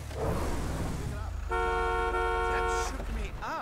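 A car horn honks in GTA 5, a sustained loud blare lasting over a second amid game sounds, with people talking over and around it.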